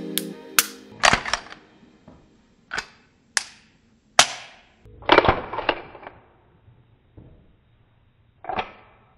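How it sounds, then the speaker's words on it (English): Empty Glock 42 pistol being dry-fired, sharp isolated metallic trigger clicks and slide handling snaps, spaced irregularly and close up in a quiet room. "It's empty, so just kind of pull the trigger."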